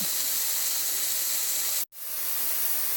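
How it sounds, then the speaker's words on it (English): Steady loud hiss of hamburgers sizzling on a hot Gotham Steel smokeless grill, broken by a brief silent gap near the end before the sizzle resumes. "I just turned over my hamburgers. And they're sizzling pretty good"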